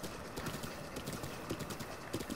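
Hooves of a giant horse clip-clopping in a steady rhythm as it moves through the Zelda video game, loud and continuous with no talk over it.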